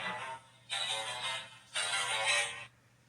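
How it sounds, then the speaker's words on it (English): A mobile phone rings in two long electronic bursts separated by a short gap, bright and fairly clear, with no voices over it. "that was my phone ringing"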